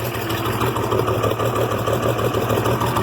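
An IH Farmall 706 tractor engine idles steadily at close range, a continuous low rumble with an even throb and no revving, heard alone in the field.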